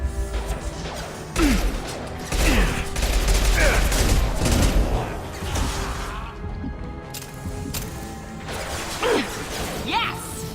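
Gunfire and combat in the video game Mass Effect 2, bursts of shots, crashes and mechanical clanks running in dense waves with brief lulls, loud and close, with voices talking over the action.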